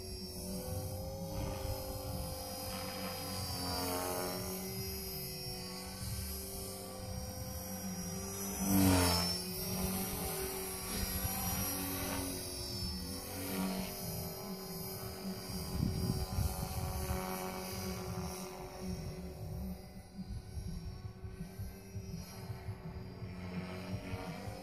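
An Align T-Rex 450L radio-controlled helicopter flies inverted, its rotor and motor producing a steady, fairly distant whine and hum with pitch shifts and a brief swell midway.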